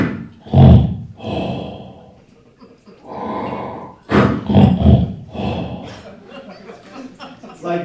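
A voice imitates his father snoring through a CPAP machine, producing loud, rasping, breathy snorts in uneven bursts with pauses between them, close up and alone.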